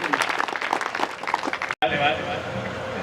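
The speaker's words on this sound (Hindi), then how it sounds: "इस एक बार जोरदार तालियां बजाइए भाई" Audience at a Hindi poetry gathering breaks into applause after a brief cut, a dense patter of clapping following earlier crowd noise and voices.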